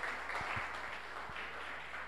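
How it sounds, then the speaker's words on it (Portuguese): Audience applause at an evening lecture on archaeology and cultural heritage of the São Sebastião cemetery in Vitória, a steady, moderately faint wash of clapping sustained throughout with no talk over it. "Vamos aplaudir?"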